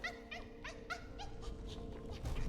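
Repeated short yelping, whimpering cries from the Bell Beast, a dog-like creature in the video game Hollow Knight: Silksong, sound over a steady game background hum.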